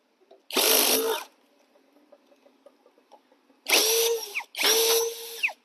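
A 21-volt cordless drill driving a bolt whirs in a short loud burst, then a quiet pause with faint clicks, followed by two more strong bursts close together.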